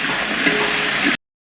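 Mint leaves dropped into hot oil for chicken biryani tempering, giving a steady close sizzle with stirring scrapes for about a second before cutting off.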